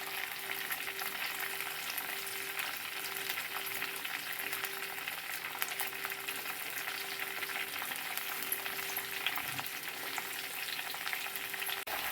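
Curry leaves frying in hot oil with green chillies for a village-style dosakaya tomato pachadi make a steady, soft, even sizzle and crackle that continues throughout, with no talking.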